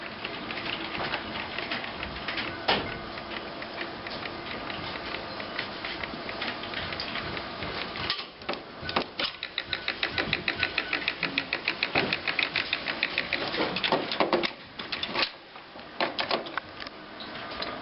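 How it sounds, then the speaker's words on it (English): An HP DesignJet 450 printer runs its startup sequence, its carriage unlatching and shuttling with steady mechanical whirring, then a burst of rapid ticking and tapping near the end, close and alone. "the machine starts going through its startup sequence normally, and in a second see the carriage unlatch, move over to the right hand side, tap out a couple of times"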